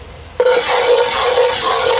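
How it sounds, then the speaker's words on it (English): Flour and butter cooking in a Lodge camp Dutch oven for Salisbury steak, first quiet and then a sudden steady, loud sizzle with scraping as the roux is stirred close by, with no voices. "now I'm giving that flour and butter a few minutes to cook"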